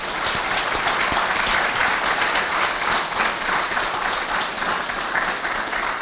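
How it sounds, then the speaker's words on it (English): Conference audience applauding lawyer Janice, sustained even clapping from a large crowd lasting about six seconds with no break. "and a round of applause for Janice, please."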